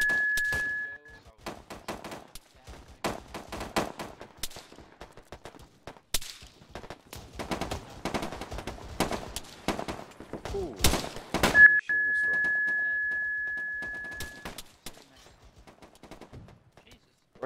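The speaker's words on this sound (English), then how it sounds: "Where are they shooting us from" Gunfire in a military video game, with sharp single shots and rapid bursts crackling in irregular clusters, some near and loud, alongside a sustained tone and players talking over radio.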